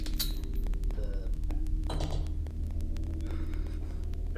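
A refrigerator in the horror video game MADiSON gives off a steady low hum and throbbing rumble, with faint clicks and creaks over the top and no clear speech.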